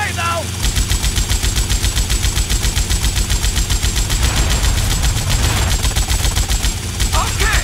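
A helicopter-mounted machine gun fires in GTA Vice City: a continuous, loud, rapid stream of shots with steady rhythm, backed by a low engine rumble, lasting nearly the whole stretch after a brief lead-in.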